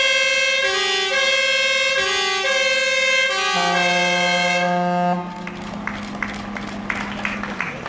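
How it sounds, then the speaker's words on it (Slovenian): A fire truck siren blares loudly in a rising and falling wail at a fire brigade vehicle handover ceremony in Ljutomer, Slovenia, cutting off partway, followed by engine noise and scattered background sounds. "slišali bomo tudi njegove sirene"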